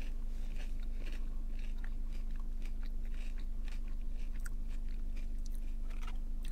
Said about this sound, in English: These shape hash browns are my absolute favorite because every bite is always like so crunchy.